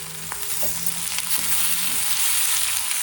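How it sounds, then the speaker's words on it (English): Cut tomatoes hit a pan of half-fried, translucent onions and sizzle loudly and steadily, with a few faint clicks of stirring and no voices. "Now I'm going to add the cut tomatoes."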